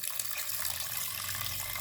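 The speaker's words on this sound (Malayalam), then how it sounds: "ഇതിലേക്ക് വെള്ളം ഒഴിച്ചു കൊടുക്കാം." Water is poured into a cooker holding potatoes for boiling, a steady hissing, splashing stream that runs without a break.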